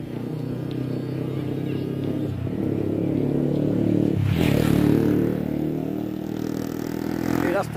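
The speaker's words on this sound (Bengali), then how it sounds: "মোটর সাইকেল অনেক জোরে জোরে খুব স্পিডে রাইডিং করে।" Motorcycles and street traffic at night on a Dhaka-area road, a steady engine drone with one louder vehicle sweeping past near the middle, and faint voices in the background.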